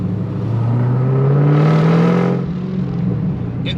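An Edelbrock supercharged Camaro SS engine revving up and settling back, loud and close with a rising whine, then rumbling unevenly with a boggy, surging idle, no talk.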